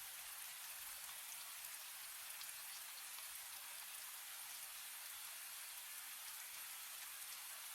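Gentle rain falls steadily on surfaces in a soft, even patter of drops, faint and continuous, with no voices.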